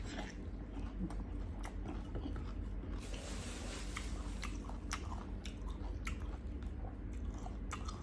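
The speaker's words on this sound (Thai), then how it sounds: "มา กินหน่อไม้แซ่บๆพี่น้อง" Close chewing and crunching of spicy Lao-style bamboo shoots, with wet biting and squishing sounds continuing throughout at steady loudness, with no speech.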